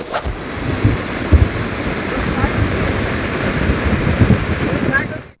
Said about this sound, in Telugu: రామాయంపేటలో ఇంకా వరద విలయం కొనసాగుతోంది